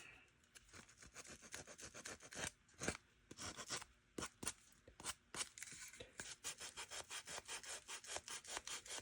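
Sandpaper lightly rubbed along the edges of a wood piece in quick back-and-forth strokes, making a steady rhythmic rasping that is close but quiet, with no talking.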